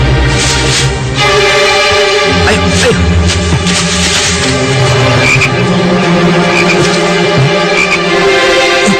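Frogs croak loudly and continuously in an outdoor night setting, a dense overlapping chorus of rasping calls with a few sharper bursts, steady from start to finish.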